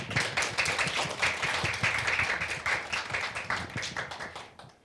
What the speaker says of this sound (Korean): 여러분들께서 격려 박수 해주시면 감사하겠습니다